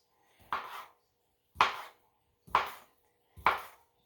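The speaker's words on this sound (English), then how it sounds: "let's cut up these sausages" A knife chops through sausages in four distinct, evenly spaced cuts, each a sharp thunk onto the board with a short scrape after it, close and clear in a quiet room.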